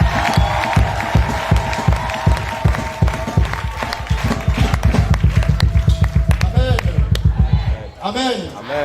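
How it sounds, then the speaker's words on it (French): A church congregation claps in a steady, rhythmic beat with crowd noise and cheering, loud and close, the even claps running for several seconds before tapering off near the end. "Sous vos acclamations, s'il vous plaît"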